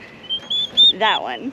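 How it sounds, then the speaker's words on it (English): Turkeys on a homestead give a short, rattling gobble-like call near the end, close and fairly loud, after a few higher chirps, while a person speaks briefly. "Those are turkeys."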